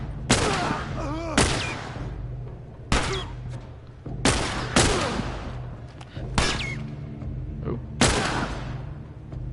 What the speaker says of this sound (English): He's taken 3 rifle shots so far.